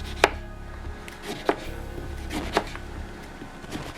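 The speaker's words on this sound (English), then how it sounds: "And now what I'm going to do is cut my lemon." A knife cutting through a lemon, probably on a board in a home kitchen, three distinct crisp chops spaced about a second apart over a low background hum.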